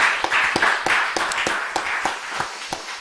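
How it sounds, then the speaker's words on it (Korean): A church congregation claps together in praise during a Sunday worship service, a steady run of sharp, fairly loud claps with no talking over it. "하나님 앞에 영광의 박수 한번 올려드리겠습니다"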